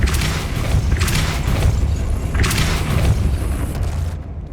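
Depulso force spell cast in Hogwarts Legacy, loud booming bursts over a steady rumbling game backdrop, repeated a few times and close.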